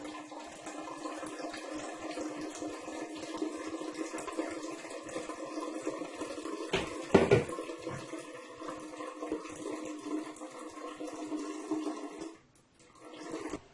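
Water pours steadily into a bowl of squeezed coconut for making fresh coconut milk, with a brief clatter partway through, before trickling to a stop.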